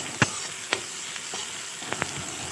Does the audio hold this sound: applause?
no